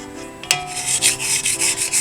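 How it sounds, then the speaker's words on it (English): A spatula scrapes the sides of a mixing bowl of spice cake batter, a close, steady run of soft rubbing strokes after one sharp knock. "I'm going to scrape the sides down so that everything,"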